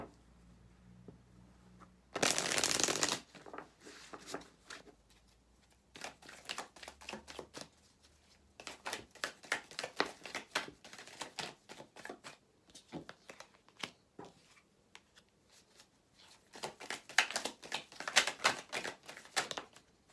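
Tarot cards are shuffled close up in repeated riffling bursts of quick papery flutters and taps, with a sharp louder flurry early on and pauses between rounds, no speech over them.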